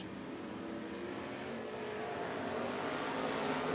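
Race cars roaring around the dirt oval at Kennedale Speedway Park in Kennedale, Texas, a faint, steady engine drone that swells slightly as the field carries momentum around the outside.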